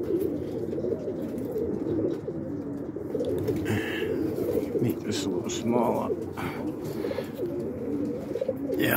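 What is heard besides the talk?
pet pigeons cooing around the porch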